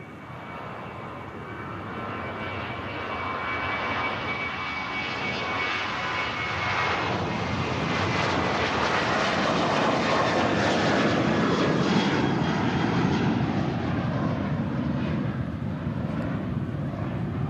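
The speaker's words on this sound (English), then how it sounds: "Positive rate gear up on the Ryanair" A Ryanair jet airliner takes off and climbs away from Manchester Airport, its engine roar swelling into a broad, sustained rush that peaks midway and stays loud, with some wind buffeting on the microphone.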